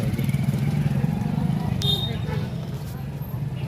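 Motorcycles at a bike rally in Azamgarh during an electricity workers' protest, engines rumbling steadily beneath crowd babble and voices nearby.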